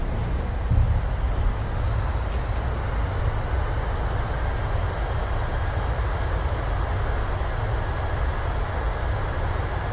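A Boeing 737's thrust reversers deploy on landing in Microsoft Flight Simulator, a loud, constant engine roar with a broad rushing whoosh held steady from start to finish.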